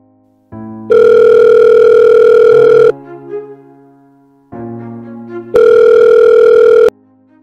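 A phone ringback tone sounds loudly in two long electronic rings separated by a pause, with no one picking up.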